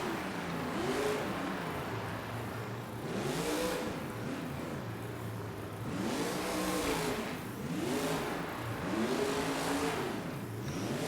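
Monster truck engine at an arena freestyle competition revs repeatedly in loud rising-and-falling surges, about five throttle bursts over a constant roar, heard from a distance amid crowd noise.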